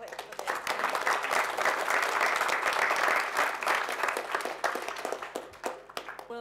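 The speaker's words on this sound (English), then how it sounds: "Let's give a really good warm clap for that." An audience at a community committee meeting claps warmly for several seconds, the applause swelling and then tapering off, with a faint voice beginning near the end.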